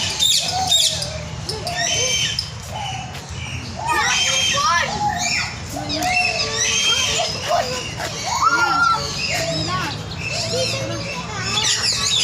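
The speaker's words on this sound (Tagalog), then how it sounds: "Ayun, daming ibon, oh." Many wild birds call at once, a dense, overlapping chorus of chirps and whistles that stays busy and close throughout, with background noise from the outdoor setting.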